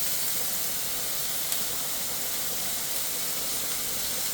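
Chicken curry mixture with salt sautéing in a pan, giving a steady, soft, continuous sizzle and hiss at low level with no talk.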